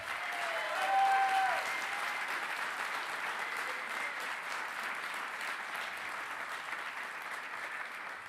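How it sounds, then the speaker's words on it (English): An audience at a baseball event honoring a benefactor gives a steady round of applause, a dense wash of clapping that holds evenly for several seconds and slowly eases off, with no talk over it. "let's have a nice round of applause for our benefactor, Mr. Bill Janetschek."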